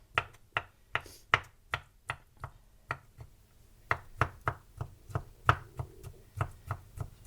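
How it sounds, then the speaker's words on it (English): A knife chops olives on a cutting board in a steady series of sharp, close thuds, about two to three strikes per second with a brief pause midway. "Just chopping them up like you would get chopped olives at the store"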